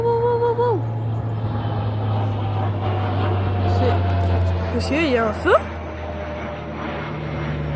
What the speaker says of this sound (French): Ça, c'est les avions là pour qui lâchent le sable